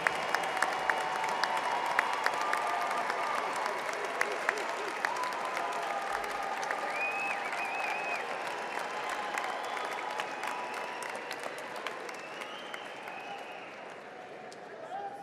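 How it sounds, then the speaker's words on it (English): Warm, sustained applause from a commencement audience honoring graduates' families and friends, a dense wash of many hands clapping with cheers, steady for most of the stretch and easing slightly toward the end. "let's give them a warm round of applause"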